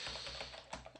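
Fast typing on a computer keyboard, a quick run of light close key clicks, faint and without talk.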